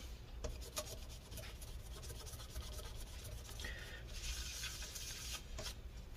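A cloth dampened with rubbing alcohol rubbed over a part of a Lenovo ThinkPad P50 laptop, a close, continuous soft scrubbing and rasping with faint squeaks, alone without talk.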